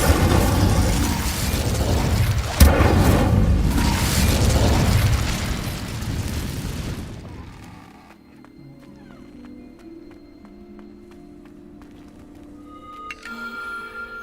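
A fire spell is cast in the Hogwarts Legacy video game on PS5: a loud, roaring burst with a sharp crack early on rushes for several seconds, then drops away to a quiet, sparse game ambience.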